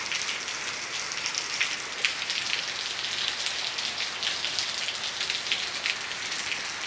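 Steady rain shower in rural Maranhão, Brazil, easing off before dawn, a dense even hiss of drops on surfaces filling the whole stretch at constant loudness, with no voices.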